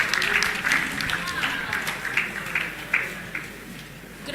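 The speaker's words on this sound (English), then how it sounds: "Please, can we give her a round of applause?" An audience at a patriotic gathering applauds a speaker, moderate clapping that thins and tapers over several seconds with a few louder claps near the end.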